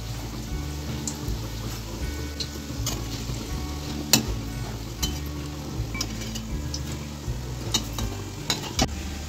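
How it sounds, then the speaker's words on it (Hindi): Samosa rolls fry in hot oil in a kadai over a low flame, giving a steady close crackling sizzle dotted with sharp pops and light clinks as they are turned, with no voices. "इसको इसी तरह से अलट पलट के अच्छे से फ्राई कर लेना है।"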